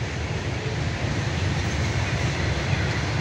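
A train rolls past on a railway line beside a bird farm, a steady loud rumbling roar with no breaks, close by and on its own without talk.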